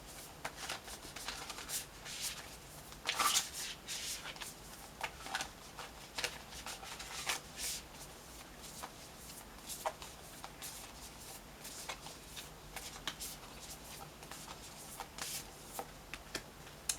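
Tarot cards are shuffled by hand to pull an affirmation card. Crisp riffles and rubbing bursts repeat in an uneven rhythm, close and clear, with no talking.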